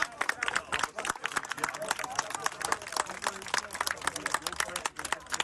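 Local residents clapping and cheering to greet a rescued man after a search operation in Halkidiki, a lively outdoor burst of applause mixed with crowd babble, with speech over it.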